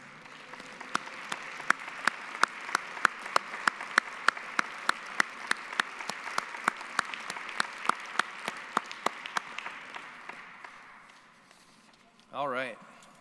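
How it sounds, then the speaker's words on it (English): Applause at a Main Street Summit awards session honoring Tree City USA communities: a room of clapping swelling to a steady crackle with distinct individual claps, tapering off before a brief voice at the end. "Let's give a round of applause for Tree City USA."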